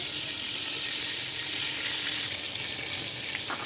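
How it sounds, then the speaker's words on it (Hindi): Grated ginger and garlic sizzle steadily in a few spoonfuls of hot oil for mutton biryani, a close, even crackling hiss that runs throughout with no talk. "अब इसी तेल से 3 चम्मच तेल लेकर इसमें कद्दूकश किया हुआ अदरक लहसुन डालकर"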